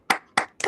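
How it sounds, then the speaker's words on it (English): Three separate hand claps from remote meeting participants, each a short sharp burst over an otherwise quiet line. "It's time for you guys to go ahead and unmute and clap."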